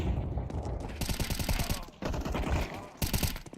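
Rapid bursts of automatic gunfire in Counter-Strike 2 during a team firefight, loud and close, coming in three dense volleys with brief gaps between them.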